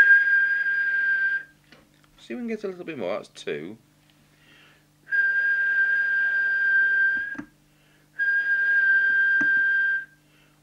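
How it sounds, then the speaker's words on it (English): Steady single-tone whistles go into the microphone of a Hoffman HF225 80-channel mobile CB radio during transmit alignment. There are two long, even whistles of about two seconds each. Between them someone talks briefly, close to the mic. "now we'll go for the quick whistle test."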